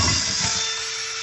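A SuperDrive Mach1 auto-feed screw gun gives a brief, close whirring buzz while driving a fastener, loud at first and fading over about a second, with no talking.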